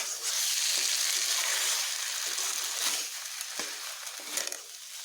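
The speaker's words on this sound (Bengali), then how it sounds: "নুনটাকে ভালো করে মিশিয়ে এটা একটু বেশ ভালোভাবে কষিয়ে নিতে হবে।" Pointed gourd sautéed with salt in a pan, producing a loud, dense, continuous sizzle with occasional stirring scrapes, close up and without talk.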